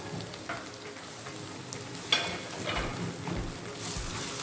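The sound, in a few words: stirring spices and vegetable stock cube in a pan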